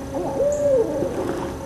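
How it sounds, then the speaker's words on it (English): Owls hoot outside an apartment during a 2024 solar eclipse, one clear drawn-out hoot standing out against steady outdoor background noise, fairly close and distinct. "the owls outside my apartment are freaking out"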